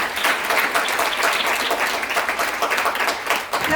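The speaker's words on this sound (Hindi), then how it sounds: "जोरदार तालियां बजा सकते हैं इस बात पर" A church congregation at a Friday worship service claps loudly and continuously, a thick, even wash of applause filling the room for several seconds.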